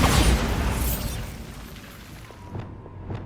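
A Bombarda spell in Hogwarts Legacy goes off as a loud, booming blast that rumbles and fades, followed by a few lighter pops and debris clatters near the end.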